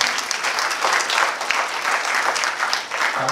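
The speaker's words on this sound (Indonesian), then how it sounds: "Kasih aplaus buat pengurus dan pengawasnya." Steady applause from a seated audience at a cooperative's annual members' meeting, a dense wash of many hands clapping continuously at an even level, with no talking over it.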